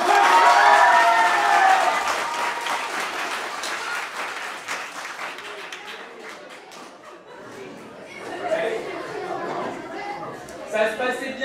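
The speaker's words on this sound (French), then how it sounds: "applaudissez maintenant." Audience applause at a live stage show in France, loud and dense at first, then thinning into scattered clapping with chatter and voices, before a few claps pick up again near the end.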